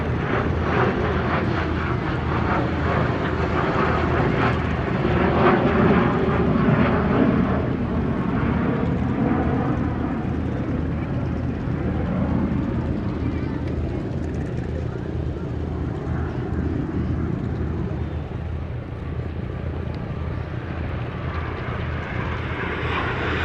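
A Canberra TT-18 target tug jet, built as a Canberra T4 trainer, performs at the Shellharbour airshow with a loud, sustained engine roar that surges and slowly fades as it passes.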